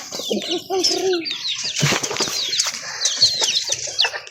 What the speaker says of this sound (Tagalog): Nangyari mga manok guys, oh.